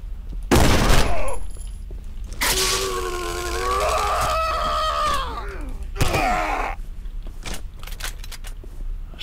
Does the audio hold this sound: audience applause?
no